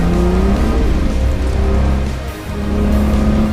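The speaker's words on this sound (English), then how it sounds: "Spun the wheels in second gear," A Barra-swapped EL Falcon drift car leaving the pit lane on a track, its engine droning loudly and steadily as the wheels spin in second gear, with a brief dip in the roar before it picks up again.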